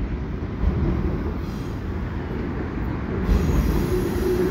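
A CN mixed freight train with transformer loads and empty flat cars rumbles past steadily near the St Patrick Street Bridge, a loud continuous low roar of wheels on rails with occasional metallic squeal.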